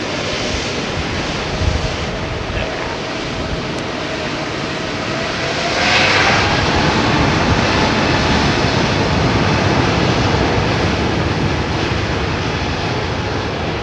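Large jet airliner with General Electric or Pratt & Whitney engines taking off at London Heathrow, a steady broadband engine roar that swells louder around the midpoint and holds, with no talking.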